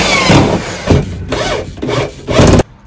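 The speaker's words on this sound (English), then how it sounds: "I'm just gonna drill these and put in our safety screws." A power drill boring holes into the metal top piece of a security door, in several short bursts of grinding whine separated by brief pauses, close and loud with no talking.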